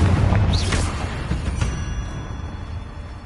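Booming fire-spell explosions from Confringo casts in Hogwarts Legacy, a loud low rumble with a crackling burst early on that slowly fades away, with no talking.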